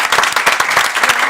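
Dense applause from an audience at a grand raffle drawing, steady and loud throughout with no pauses, a crowd clapping together in a hall.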